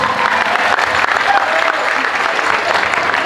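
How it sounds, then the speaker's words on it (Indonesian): Audience applauding for Ustaz Salman at an Isra Mi'raj gathering: steady, dense clapping from a crowd that fills the whole short stretch at an even loudness. "boleh dong tepuk tangan untuk Ustaz Salman"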